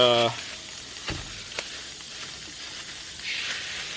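Chorizo browns in a pan at an outdoor hammock camp, a soft steady sizzle with a few sharp clicks and scrapes, and a brief voice at the very start.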